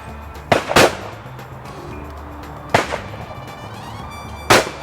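A Zoli XL EVO shotgun fires outdoors: three sharp, loud reports, the first a quick double shot and the others spaced about two seconds apart, each ringing out over a quiet background.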